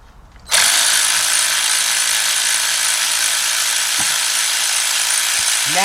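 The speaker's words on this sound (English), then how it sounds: "So you want to take your cordless ratchet" A cordless ratchet spins steadily and loudly after a brief quiet start, driving out an ignition coil bolt on a 2004 Ford Expedition 4.6 V8 during a spark plug job; a continuous mechanical whir runs throughout.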